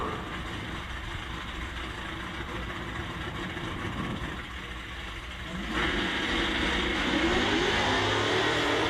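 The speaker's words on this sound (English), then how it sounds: "Charles Barber going to watch the classic Thunderbird rip" At a drag strip, a classic Ford Thunderbird and a Dodge Hellcat rumble in a steady low engine drone that swells louder partway through as they rev and launch, with no voices heard.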